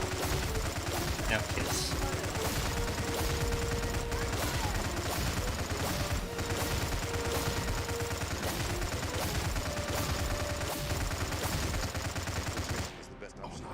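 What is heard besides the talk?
gunfire from the video game Stargate: Empire at War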